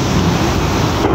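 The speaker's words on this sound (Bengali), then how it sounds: "প্রচুর বৃষ্টি, প্রচুর আকারে।" Heavy rain pours during a thunderstorm as a loud, steady, close roar of broadband noise with no pauses and no clear thunder clap.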